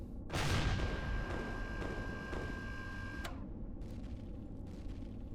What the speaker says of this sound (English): You can see the secondary explosions there.